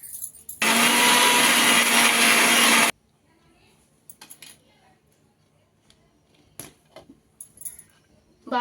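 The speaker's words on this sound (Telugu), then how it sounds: "మిక్సీ చేసుకుందామండి" An electric mixer grinder whirs loudly for about two seconds, grinding dry red chillies and onions for an Andhra tomato chutney, then stops, followed by scattered clinks and knocks of the jar and utensils.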